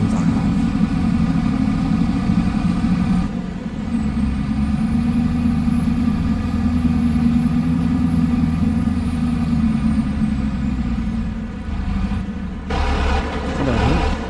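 A loud truck engine rumbles and drones steadily while driving in Farming Simulator 25, a heavy low hum that dips briefly and then returns, with no talking.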